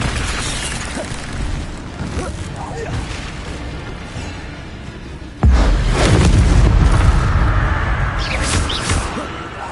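A fire spell blasts in Hogwarts Legacy, a sudden loud whooshing burst about halfway through that roars on over busy game sounds.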